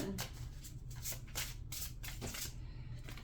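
Tarot cards shuffled by hand at close range, a run of quick papery riffles and soft flicks in irregular bursts, with faint low background hum.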